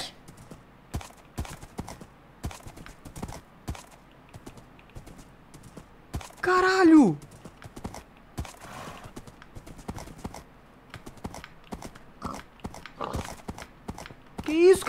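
Horse hooves clip-clop repeatedly in a video game, a steady run of short hoof knocks with a brief whinny midway, heard alongside someone talking.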